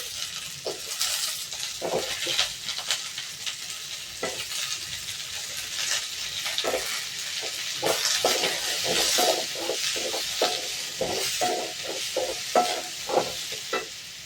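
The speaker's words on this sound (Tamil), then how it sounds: "இது கூட 2 தக்காளி போட்டுக்கிறேன்." Two tomatoes fry in a pan for a brinjal curry, making a steady sizzle broken by repeated scraping and clinking stirring strokes, close and continuous, with no talking.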